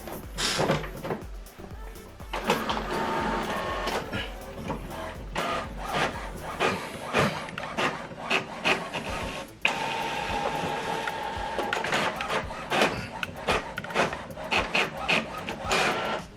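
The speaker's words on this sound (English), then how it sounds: "Now this document is printing." An HP Officejet printer prints a document on both sides, with close mechanical whirring, rapid clicks and feed clunks. The paper movement shifts midway as the sheet flips for the second side, and faint talk is heard at times.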